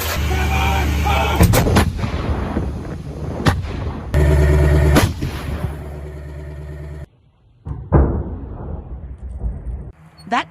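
M109 Paladin self-propelled howitzer firing artillery rounds, several heavy booming blasts over a rumbling engine, loud and close, with voices talking between shots.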